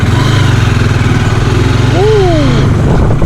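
A new motorcycle with about 2200 km on it, heard on a solo ride, its engine humming steadily and loud with a low rumble throughout, while wind noise rushes over it.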